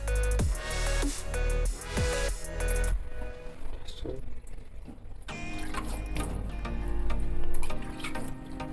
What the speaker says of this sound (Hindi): आपने पानी गिराते हुए, ताकि इसके जो जिस्म है वो सारा गीला हो जाए